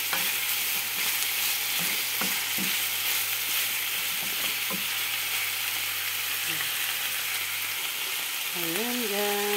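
Chicken and pork adobo fries in a pan with a loud, constant sizzle while a utensil stirs and scrapes now and then. A low hum fades out near the end, and a brief voice-like tone appears at the close.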